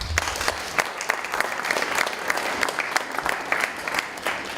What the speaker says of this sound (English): So a quick round of applause for our sponsors.